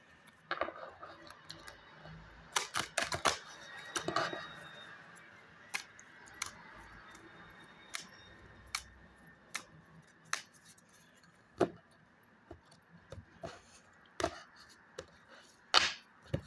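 Tarot cards being shuffled produce a run of sharp, dry snaps and flicks, dense at first and then spaced out into scattered single taps, fairly close and quiet against a hushed room.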